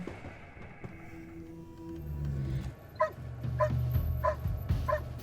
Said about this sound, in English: this fence with the sounds of a dog barking in the background